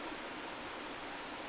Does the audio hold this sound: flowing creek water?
yes